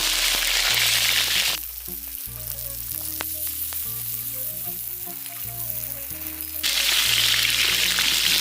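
Lemons sautéing in oil for a spicy lemon pickle, frying with a steady close sizzle, quieter through the middle stretch as steady hum and low tonal sounds come to the front, then loud again at the end.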